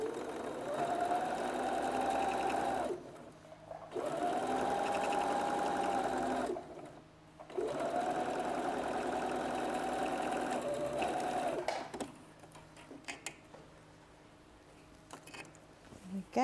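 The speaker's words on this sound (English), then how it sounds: "So we're going to stitch around here, 1/4 inch seam allowance." A sewing machine stitches fabric pieces for a teddy bear with a quarter-inch seam, running in three steady whirring bursts separated by short pauses, close by, then stopping as handling noises follow.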